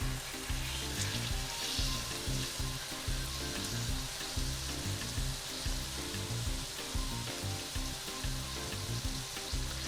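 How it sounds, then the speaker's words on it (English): Roast beef and onion sear in hot oil with herbs, giving a steady, loud sizzle and crackle that runs the whole time, with occasional stirring scrapes and no talking. "Just cook it a while longer on the oil."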